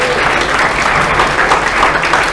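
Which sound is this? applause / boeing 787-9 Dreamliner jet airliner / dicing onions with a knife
applause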